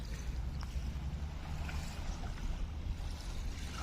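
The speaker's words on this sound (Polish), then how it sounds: "A tutaj mamy piękne, spokojne morze." Low, steady rumble of gentle sea waves washing continuously near Rimini, Italy, with a soft broadband hiss and no distinct breaking crashes.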